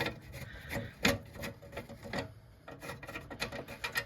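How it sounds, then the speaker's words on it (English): Screw being turned out of the license plate on a 1993 Cadillac Fleetwood Brougham, close, soft squeaky scraping and clicking in short irregular bursts. "So first I'm going to unscrew the license plate over here."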